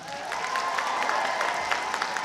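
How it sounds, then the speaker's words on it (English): An audience claps steadily through the whole moment at a cosplay masquerade, a sustained, even round of applause from a sizable crowd with a faint tone humming underneath. "All right, one more round of applause."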